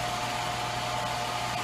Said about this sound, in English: So I'm getting my forge up to operating temperature now.